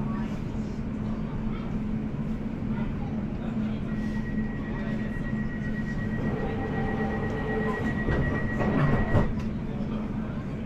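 A London Overground train runs between Liverpool Street and Chingford, heard from inside as a constant low rumble with a sustained electric whine. Rattles and clanks build slightly toward the end.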